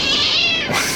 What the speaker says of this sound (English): That's a real cat, people, I swear.